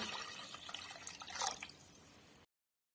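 A cup of water being poured into a pot of Dindigul-style mutton biryani, heard as a close, quiet splashing trickle that runs for about two and a half seconds and then stops abruptly.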